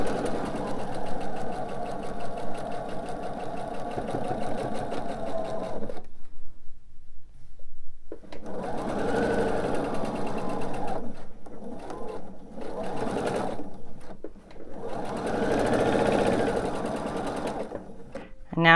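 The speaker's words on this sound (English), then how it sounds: "I'm just going to basically connect the dots to get to each section that I've already sewn." A sewing machine stitching a Night Sky quilt top whirs in steady, close runs of rapid needle strokes, broken by short pauses between seams.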